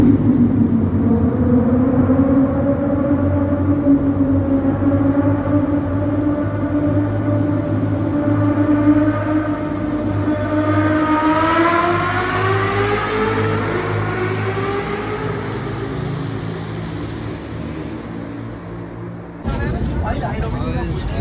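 A Kawasaki Ninja ZX10R motorcycle engine revs loudly and steadily, its pitch climbing in a long rising sweep midway before cutting off sharply near the end.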